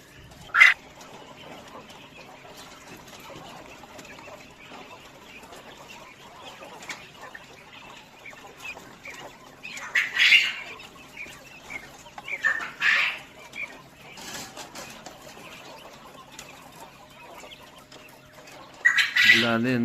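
Young fifty-day-old chickens, with cockerels among them, cluck and squawk in short bursts against a quiet background, some calls louder and nearer than others.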